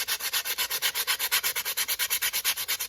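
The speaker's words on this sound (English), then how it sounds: "What you can do is take some sandpaper." Sandpaper rubbed back and forth over a wooden yellow perch carving, a fast, even run of about twenty rasping strokes, close and steady with no voices.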